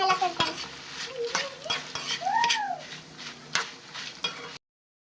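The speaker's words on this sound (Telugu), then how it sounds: "ఇవి ధనియాలు అండ్ వెండి మిరగాయలు 2 కలిపి వేయించాలి ఫ్రెండ్స్." Coriander seeds and dried red chillies dry roasting in a pan, scraped and stirred with a spatula in a run of close scratchy strokes and light rattles, with a brief bird-like chirp partway through.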